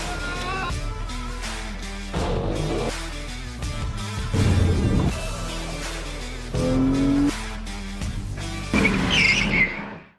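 A Volvo V60 T6 Polestar estate car drives hard, its engine surging and fading through repeated bursts of acceleration with brief tyre squeal, loud and close throughout with no voices over it.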